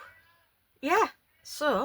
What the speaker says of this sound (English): all I can hear is the cat meowing